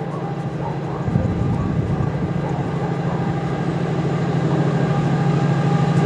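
A diesel freight train engine labours uphill at full power, a loud continuous rumbling drone close by that holds steady and builds slightly.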